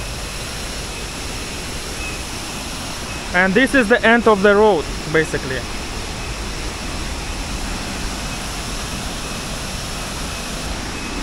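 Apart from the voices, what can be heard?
Aling-Aling waterfall in Bali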